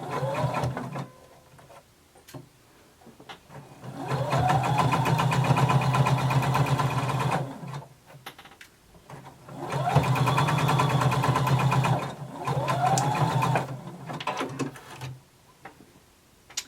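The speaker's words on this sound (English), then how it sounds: "And you're going to sew from the center down the other direction" Sewing machine stitching a 5/8-inch seam on a Simplicity pattern garment, its motor whirring in three sustained bursts of several seconds each, with brief quiet pauses between runs and no talking.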